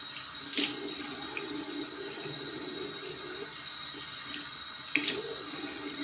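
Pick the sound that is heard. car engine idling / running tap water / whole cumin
running tap water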